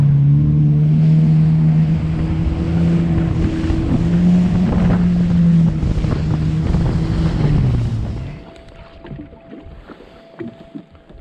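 A loud, steady engine drone with wind buffeting as a Yamaha FX HO jet ski speeds over water, then the motor cuts out and quieter lapping and rustling remain.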